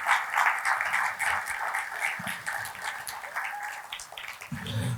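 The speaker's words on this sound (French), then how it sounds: "Est-ce qu'on peut donner une main d'applaudissement pour..." Church congregation applauding together, a steady dense wash of many hands clapping at moderate loudness for several seconds, with a low murmur rising near the end.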